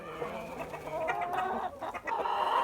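Hens foraging on a compost pile of fermented straw and hay, clucking in short, bright repeated calls, near and moderately loud, with a few overlapping clucks from several birds.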